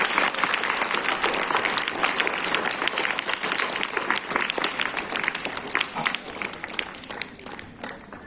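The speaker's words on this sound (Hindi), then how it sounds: "तो सब बच्चों के लिए एक बार ताली बजा देंगे" An audience claps after a children's presentation at a Van Mahotsav celebration at a school in Bhusawal, with dense applause from many hands that holds steady and then thins out toward the end.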